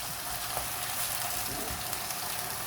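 Mushrooms stir-frying in a pan, giving a soft, steady sizzle with faint clicks of the spatula moving them around.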